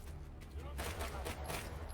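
SMG gunfire rattles through a video game match in a rapid, continuous stream of close shots across the whole short stretch, with a low hum underneath.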